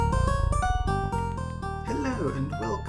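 Podcast intro music with its volume shaped by an Audacity amplitude envelope plays dense and loud, its level shifting smoothly across a short passage.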